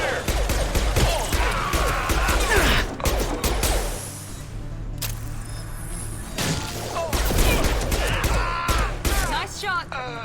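Gunfire in a Mass Effect 2 firefight: loud bursts of weapon shots and impacts cluster at the start and end, with whooshes, mechanical clanks and a character's shouted voice between them.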